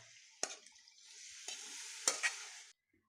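Chicken sizzles in a hot pan of masala, with a few sharp clatters of stirring over a steady frying hiss, then it cuts off.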